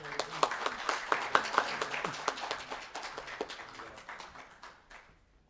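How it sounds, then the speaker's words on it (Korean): An audience at a Korean urban design society general meeting and awards ceremony claps for several seconds, sharp individual claps standing out early before the applause thins and fades away, with no talking. "박수 부탁드립니다"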